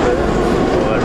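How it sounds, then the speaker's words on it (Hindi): A Moscow Metro train starts pulling away, a loud, close rumble of wheels and car noise rolling continuously throughout. "इस समय जब ट्रेन चलने लगती है"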